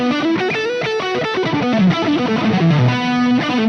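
A distorted electric guitar plays a fast blues lick, a loud run of quick picked notes with bends and a descending line, heard alone without talk.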